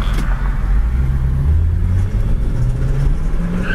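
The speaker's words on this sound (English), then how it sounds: "Transmission just kind of surged you right back in your seat when it shifted." A 1967 Ford Mustang with an automatic transmission drives along, its engine droning in a loud, steady low rumble that rises and settles as the gears shift.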